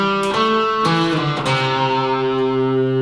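An electric guitar plays a short melodic phrase from a song's solo, a few picked and slid notes ringing into a long sustained final note, close and solo without talk.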